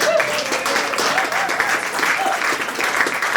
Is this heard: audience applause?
yes